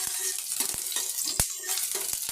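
Chilli fries in a pan with a steady, close hiss of sizzling oil, punctuated by sharp clicks and taps of a utensil moving the pieces around.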